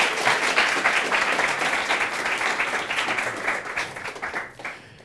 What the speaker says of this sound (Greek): Ένα χειροκρότημα για τον Ζήση και τον Δημήτρη.